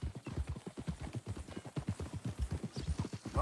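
Horse hooves clip-clopping steadily in the Red Dead Redemption 2 game, a quick even rhythm of soft thuds, moderately close and fairly quiet, with no talk over it.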